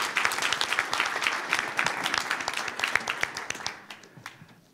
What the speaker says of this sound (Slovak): Ešte jeden potlesk, teda poprosím.